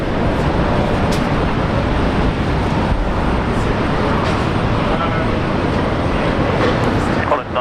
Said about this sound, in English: A320 Neo going back to Auckland.